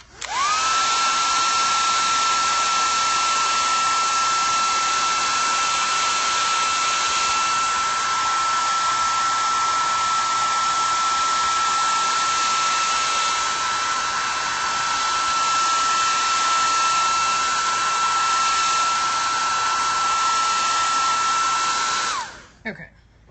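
A dryer runs steadily and loudly for over twenty seconds while drying a painted Bible journaling page, holding a constant whine with a steady airy rush before it shuts off at the end.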